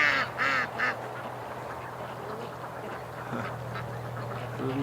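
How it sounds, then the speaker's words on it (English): Several ducks quack in a short burst near the start, then again faintly, over a steady low rumble of cold north wind blowing off a lake. "Little ducks having fun."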